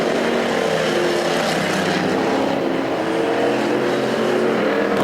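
Enduro race cars roar around the Perris Auto Speedway dirt oval in a heat race, a dense, steady wall of engine noise with several cars droning together at close to middle distance and no talk.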